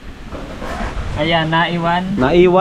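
Gusty wind roars and buffets the microphone throughout, with people talking close by over the noise.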